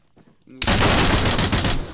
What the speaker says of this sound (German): Wer schießt da? Von wo kommen die Schüsse?